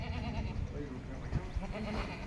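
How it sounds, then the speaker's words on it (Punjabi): A pregnant white-eyed goat at a Punjabi livestock sale bleats a few times nearby, its cries mixed with background voices and farmyard noise. "ਇੱਕ ਆ ਗੱਬਣ ਬੱਕਰੀ ਚਿੱਟੀਆਂ ਅੱਖਾਂ ਦੀ"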